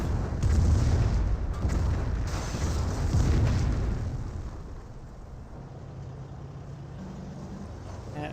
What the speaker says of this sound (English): Calliope Barrage running on in